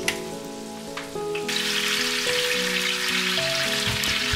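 Chopped garlic sizzles in a hot pan for a soup-jar lunch recipe, a steady, close crackling hiss that starts about a third of the way in and stays loud, with soft background music underneath.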